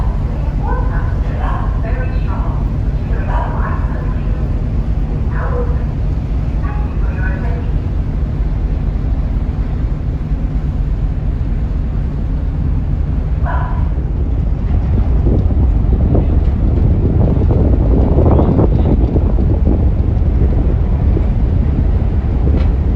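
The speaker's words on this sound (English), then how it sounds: "So the boat's just moving now." A steady low engine rumble and wind buffeting the microphone fill the scene as the ferry moves, with occasional faint voices in the background.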